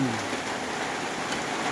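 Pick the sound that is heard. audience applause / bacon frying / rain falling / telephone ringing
rain falling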